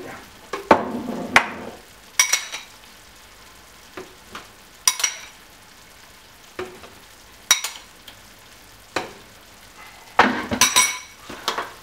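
Green and black olives are stirred in a pan of hot olive oil, with a soft steady sizzle punctuated by repeated sharp clinks and scrapes of a utensil against the pan at irregular intervals, no voices.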